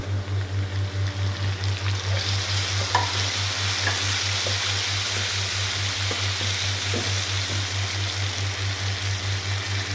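Onions and tomatoes fry in a pan and are stirred, with a steady sizzle and occasional scraping over a low, pulsing hum and no talking.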